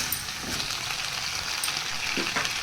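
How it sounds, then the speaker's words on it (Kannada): Gobi manchurian cauliflower pieces fry in hot oil while being stirred, a loud steady sizzle with occasional scraping stirs, close and continuous with no talk. "ಹಾಗೆ ಫ್ರೈ ಮಾಡಬೇಕು ಇದು ಎಣ್ಣೆಯಲ್ಲೇ ಬೇಯಬೇಕು"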